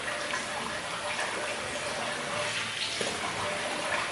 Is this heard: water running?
yes